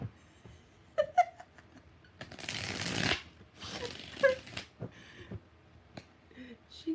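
Tarot cards being shuffled by hand in a few quick riffling bursts, close and moderately loud, with soft handling noises and brief pauses between shuffles.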